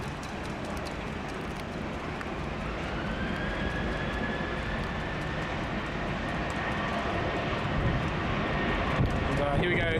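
A Qantas airliner departing Sydney Airport in heavy rain builds a loud, rising jet engine roar with a whining tone, under the steady hiss of rain and occasional talk.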